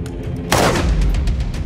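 Gunfire at a shooting practice session for priests in Southern Cyprus: one loud, sharp shot cracks out and its echo rolls away, with faint further pops trailing behind it.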